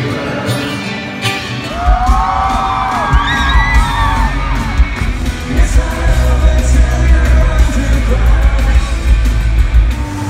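A crowd packed into the mosh pit at a concert roars loudly and continuously, with whoops, yells and high shouts rising above a heavy low rumble from the arena.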